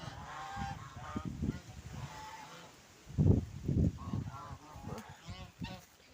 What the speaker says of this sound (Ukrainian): Гуси їдять і капусту і траву.